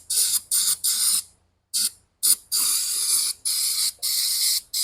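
Repeated hissing bursts of brake cleaner spray on the rear brake parts of a Mack Cruise-Liner truck, several short blasts then longer sustained sprays with brief pauses between them, close and steady.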